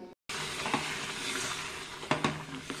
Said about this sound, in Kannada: ಅದಕ್ಕೆ 2 ಲೋಟದಷ್ಟು ಬಿಸಿ ನೀರನ್ನು ಹಾಕ್ತೀನಿ.